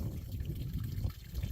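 Water flowing down past a natural pond's dam in the woods, a continuous low, rushing wash with a murky, rumbling body, steady and moderately faint throughout.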